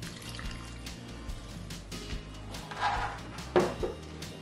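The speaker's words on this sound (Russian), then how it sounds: "заливаем минералкой" Mineral water is poured into a bowl of cold kefir okroshka soup with shrimp, giving a soft, close fizzing splash with a few louder gurgles toward the end.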